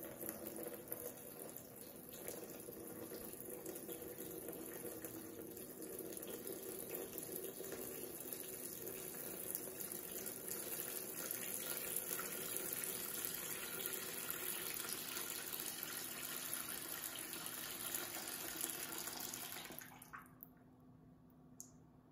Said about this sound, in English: we are going to pour the water